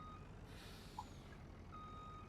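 Truck reversing beeps from a vehicle in Farming Simulator 19, a steady repeating tone sitting under a constant engine rumble, moderately quiet and without talk.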